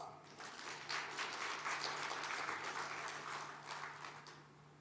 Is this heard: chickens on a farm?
no